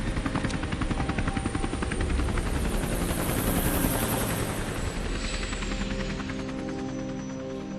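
A helicopter in the video game Sinking Island makes a loud, continuous rotor and engine drone that holds steady throughout, with no one speaking over it.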